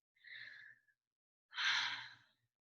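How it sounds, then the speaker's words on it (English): Two breaths with no talk: a short airy one, a pause, then a louder, deeper inhalation lasting about a second, close to the microphone. "take in a deep breath like this"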